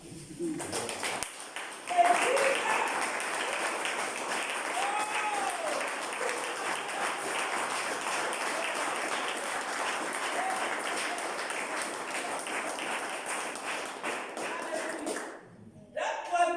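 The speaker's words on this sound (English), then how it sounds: "Please give the Lord a clap." A church congregation claps for the Lord in a long, steady burst of applause that fills the room, with a few taps and thumps and some voices mixed in before it fades out near the end.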